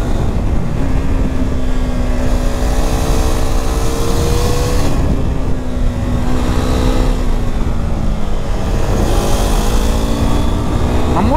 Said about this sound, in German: man muss den Motor schon echt ein bisschen auf Drehzahl halten